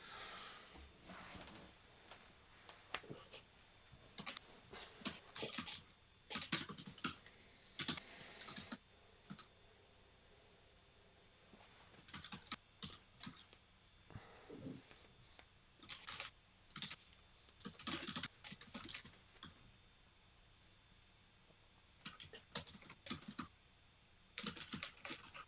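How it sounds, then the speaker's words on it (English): A computer keyboard clatters loudly in rapid bursts of typing, with short pauses between runs, close and dry with no talk. "Man, your keyboard is loud as fuck."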